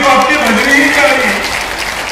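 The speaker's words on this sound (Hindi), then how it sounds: "जरा जोरदार ताली तो आपकी बजनी ही चाहिए।" An audience at a speech breaks into loud, sustained clapping, with a voice talking over the applause as it carries on and slowly eases.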